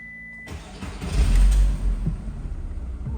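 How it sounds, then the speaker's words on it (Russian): A VW Golf 4 with a 1.6i AZD petrol engine cranks briefly after a tone, catches and starts, swelling in a loud rev before settling into a steady, close idle. "Мотор запускается хорошо."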